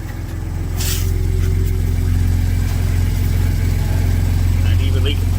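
Ford 3.5 EcoBoost twin-turbo V6 with 3-inch high-flow downpipes idling close by with a steady low exhaust drone and light throttle blips, while people talk over it.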